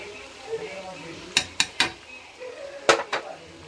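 Masala frying with yogurt in a kadhai for kadhai chicken, with a soft sizzling bed broken by several sharp metallic clinks and scrapes of a spoon against the pan, under a voice talking.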